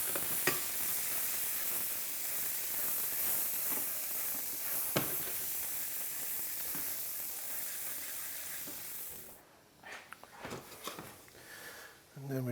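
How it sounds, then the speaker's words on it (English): Steady, loud sizzling of onions sweating in garlic oil and butter in a pan, with a continuous hiss and occasional stirring clicks, dropping briefly near the end as the pan settles. "A little bit of garlic oil, a knob of butter, some onions. We're going to sweat these off first."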